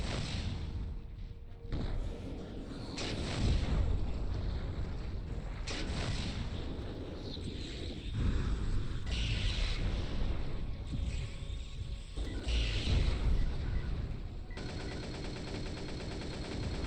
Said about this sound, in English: Look out! Mortar turrets!